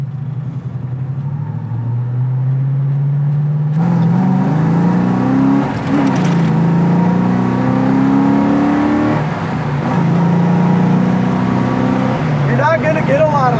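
A 1969 Ford Mustang restomod pulling away from a stop, its engine rising through rev sweeps with brief gear-change dips, loud and close, with people talking over it.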